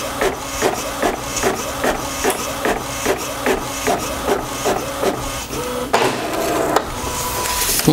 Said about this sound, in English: we've got a nice little configuration sheet we've printed here, and that validates that the printer can print